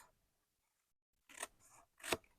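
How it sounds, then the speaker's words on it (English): Shears or snips cut through the edge of a paper treat box with two close, crisp crunching snips about half a second apart, following a brief silence, and no voices. "I've got to take my shears or snips, and I'm just going to cut that off."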